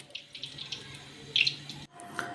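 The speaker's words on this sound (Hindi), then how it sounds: "अब इसमें थोड़ा सा पानी शामिल करके लिक्विड बना लेंगे" Water pouring into a bowl of flour and spices to mix a fish batter, a faint trickling and splashing with small bursts, then a brief pause and a final splash.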